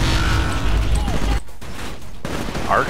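Arc grenade blast in the video game Titanfall, a crackling burst amid dense gunfire and mechanical battle noise, followed by a brief drop and a sharper zapping flare near the end.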